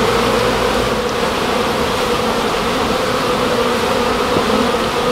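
A dense, continuous buzz of many bees on comb pulled from a hive threatened by ants and termites, close and loud, with no talk.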